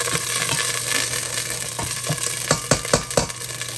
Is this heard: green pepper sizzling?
yes